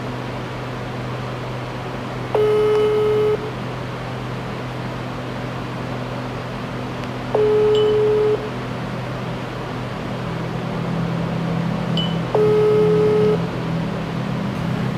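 Telephone dialing and ringback tones while calling back, three evenly spaced tone bursts of about a second each over a steady background hum.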